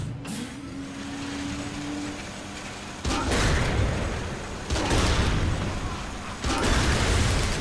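A tank wreaking destructive mayhem in the video game Saints Row The Third: a low engine rumble and mechanical noise broken by three heavy booming blasts of explosions, loud and close.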